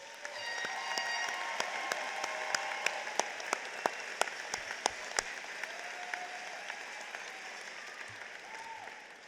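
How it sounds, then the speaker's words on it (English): An audience at a high school commencement applauds the senior class with sustained, fairly distant clapping in a large hall. Individual sharp claps stand out now and then above the steady roar. "Please join me in applauding our senior class and their many accomplishments."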